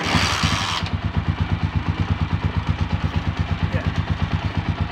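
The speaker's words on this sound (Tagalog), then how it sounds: "So paandarin ulit natin ang motor." A motorcycle engine is started with a brief hiss of cranking, then settles into a loud, close, steady idle with an even pulsing thump from its cylinders.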